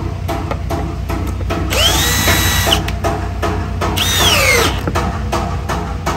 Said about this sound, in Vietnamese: Bắn đủ lực nó sẽ ngắt motor, chống giặt bảo vệ cổ tay